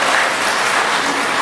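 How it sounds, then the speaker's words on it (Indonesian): Steady, dense applause from a large audience at a gathering of provincial land office heads in Central Java, clapping continuously at even loudness throughout. "tepuk tangan untuk para kantah kita ini"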